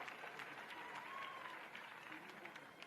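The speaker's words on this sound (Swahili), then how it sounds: "Naomba tena tuwapigie makofi sana kwa kufanya kazi pamoja." A crowd at an official gathering claps steadily, a dense, even patter of many hands that sounds soft and somewhat distant.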